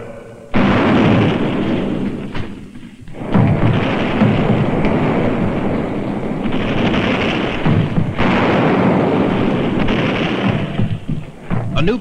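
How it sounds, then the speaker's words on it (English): Heavy artillery guns pound during the siege of the Alamo, loud booming blasts rolling into one another in dense, continuous waves with brief lulls between barrages. "A new bombardment of guns has just started, and everyone is taking cover."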